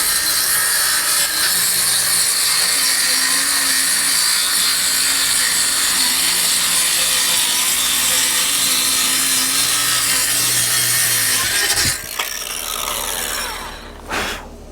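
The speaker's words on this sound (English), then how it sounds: "we've got our piece of particle board / plywood, whatever you want to call it, cut" A power saw cuts steadily through a sheet of particle board or plywood, a loud, close, continuous rasping whine lasting about twelve seconds before the blade finishes and a few clunks follow.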